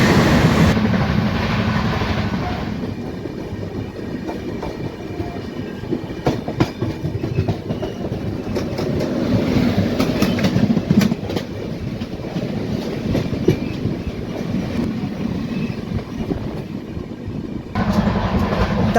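Heard from aboard the Hutatma Express, a Pune–Solapur DEMU train crosses on the adjacent track, its loud rushing rumble and rapid wheel clatter surging past, then thinning before a final swell.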